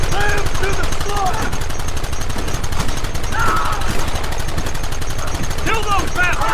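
Rapid gunfire in a Red Dead Redemption shootout, dense crackling bursts running steadily throughout with shouted voices cutting in over it.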